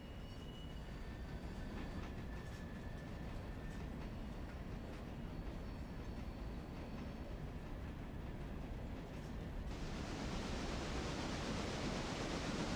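Steam locomotive in the game Railroader coasting into a rail yard: a steady, dense low rumble of rolling wheels and clatter, continuous throughout, with a hissing rush of steam swelling in over the last few seconds.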